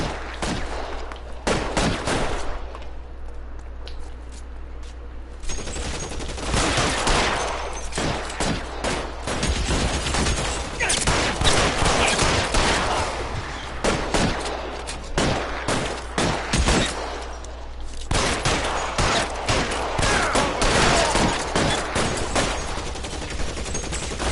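Gunfire in a shootout in the video game L.A. Noire: dense, loud volleys of shots, some in rapid clusters, that go on for about twenty seconds with only short lulls.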